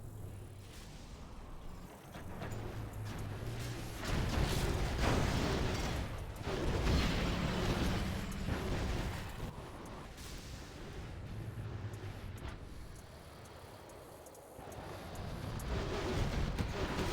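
Cannon artillery fire in the real-time strategy game Command & Conquer Generals Zero Hour, a dense, rumbling wash of repeated booms and impacts mixed with game effects, fairly loud and continuous throughout.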